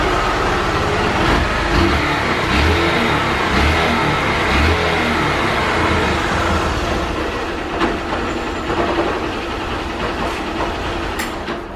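Small Fan motorcycle bought at auction, smoking heavily, revs with a new exhaust: a loud, continuous, rough engine roar with no pauses, close up throughout.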